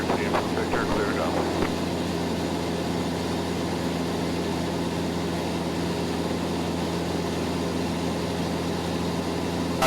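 Cessna 172SP single-engine airplane engine on takeoff, a steady droning hum heard from inside the cabin, continuous and moderately loud throughout.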